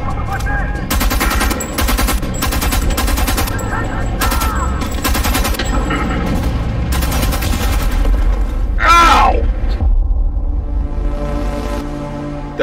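An explosion and gunfire in the shooter game Homefront: The Revolution: rapid bursts of automatic fire, then a loud boom with a rising whine, heavy and close throughout.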